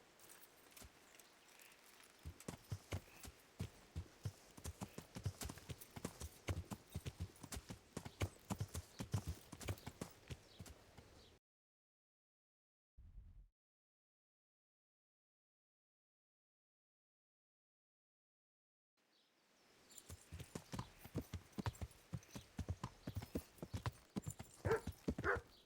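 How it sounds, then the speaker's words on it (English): Hooves clip-clop in a rapid, steady rhythm from a horse in Kingdom Come: Deliverance, then fall silent for several seconds apart from a brief thump, before the trotting resumes close and clear. "It's a horse."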